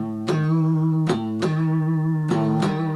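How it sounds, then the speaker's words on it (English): Electric guitar picking a tritone interval, two tense notes repeated in a short rhythmic pattern, clear and sustained. "Tritone sounds like this."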